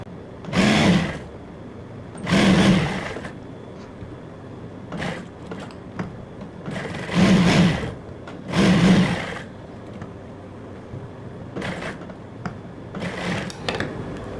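Sewing machine stitching along the buckram of a pair of trousers under foot-pedal pressure, running in several short bursts of whirring with brief pauses between them, fairly close and steady.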